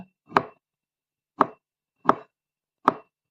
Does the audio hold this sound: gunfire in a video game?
no